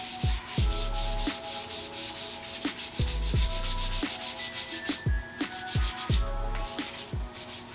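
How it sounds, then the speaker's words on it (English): Steady rhythmic rubbing of hand sanding textured plastic, back-and-forth strokes repeating in quick bursts, close and fairly loud with no talking. "I am done sanding all these down"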